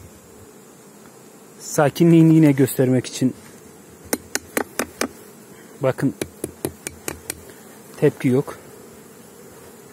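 Calm F1 Carniolan honey bees give off a low, continuous hum beneath a man's speech, broken by a series of sharp, regular tapping knocks.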